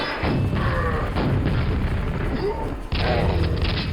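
Explosions from a rocket launcher in the video game Quake boom in a heavy, sustained rumble, broken by a brief gap before another blast, while someone talks over them.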